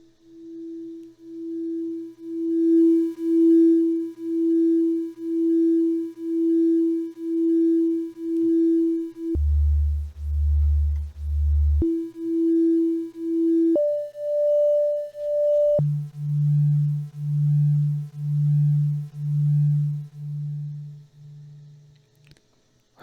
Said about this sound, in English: that's kind of what you can do with 2 oscillators, where one of them you can vary the pitch a little bit